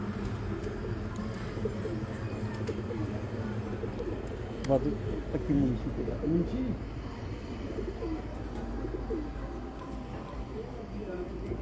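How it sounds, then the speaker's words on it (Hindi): A parwazi pigeon coos softly in short bursts beneath ongoing nearby conversation, with faint bird chirps over a steady low outdoor hum. "बेमिसाल कबूतर"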